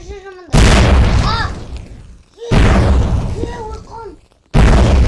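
Loud booming blasts from a bomb in a Roblox game, two heavy explosions with a third starting at the end, each with a long rumbling decay.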